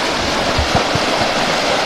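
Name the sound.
spring water flowing into a river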